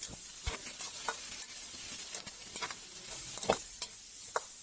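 Milkfish paksiw sautés with pepper and fish bagoong in a pan, a low steady sizzle broken by repeated soft scrapes and taps of a spatula stirring, close and without speech.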